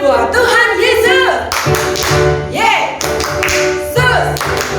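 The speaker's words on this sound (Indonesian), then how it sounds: "Yuk kita lakukan ya gerakan tepuk tangan buat Tuhan Yesus" Hands clapping in rhythm along with a children's worship song in an online Sunday school service, sharp repeated claps mixed with singing voices and music, close and loud.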